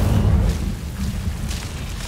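A fiery Incendio spell in the Hogwarts Legacy video game bursts out as a deep, rumbling whoosh that is loudest at the start and then settles into a sustained roar with fainter crackles.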